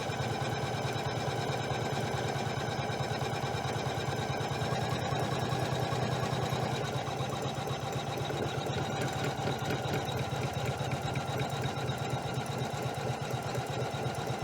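A Janome 500E embroidery machine runs steadily while sewing a satin stitch, a continuous close whirring hum with rapid even needle rhythm and no pauses throughout.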